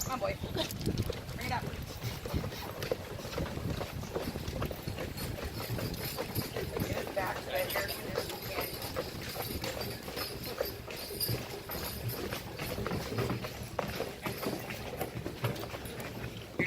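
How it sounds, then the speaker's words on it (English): Steady clip-clop of a team of horses' hooves plodding along at an even pace, fairly faint, with voices murmuring now and then over it. "Driving a team of horses."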